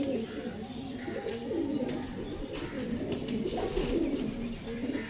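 Pigeons coo softly in repeated low, throaty phrases at moderate distance, with faint background chirps and no voices.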